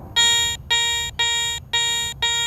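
Five evenly spaced electronic beeps from a Garrett Ace 200i metal detector over a pull tab, each a clear high-pitched tone holding for about half a second with short gaps between, loud and alone.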